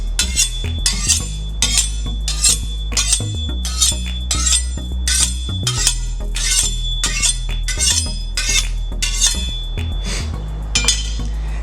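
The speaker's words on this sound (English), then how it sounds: "And that's how you hone your knife." A kitchen knife drawn repeatedly along a honing steel from heel to tip, producing a rapid series of bright metallic rings and scrapes in a steady rhythm, close up, with a low hum running beneath.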